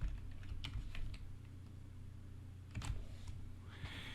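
Computer keyboard keys tapped in a short irregular burst of clicks to enter a web address, a few distinct keystrokes close by over faint background hum.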